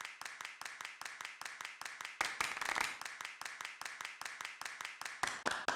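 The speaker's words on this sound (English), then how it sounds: "we kind of borrowed from like a flamenco style of like clapping" Flamenco-style hand clapping in a steady rapid rhythm, crisp sharp claps evenly spaced with a short louder flurry partway through, close and dry.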